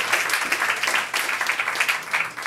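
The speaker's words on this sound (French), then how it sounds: "On l'applaudit, mesdames et messieurs" Audience applause for an invited guest at a third-anniversary evening event, a dense steady wash of many hands clapping throughout, loud and close with no pauses.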